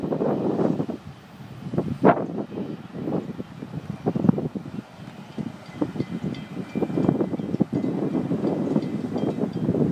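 An FEC freight train's last cars rumble and clatter past with the end-of-train device, uneven rail clunks over a steady windy roar, close and continuous without talk.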